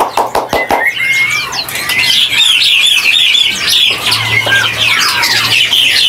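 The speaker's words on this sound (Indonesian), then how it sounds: "Ini burung murai MH, maksudnya hutan ya?" An oriental magpie-robin, a wild-caught forest bird wearing a leg ring, sings loud, varied whistled and chattering phrases almost continuously, with a few sharp knocks at the start and a low hum underneath.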